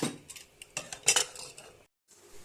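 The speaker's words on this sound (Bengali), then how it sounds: "প্রেসার কুকারে ঢাকনা দিয়ে আটকে দেবো।" Pressure cooker lid fitted and locked shut over khichuri, with a series of close metallic clinks and scrapes of metal on metal, a short silence, then faint clatter resuming.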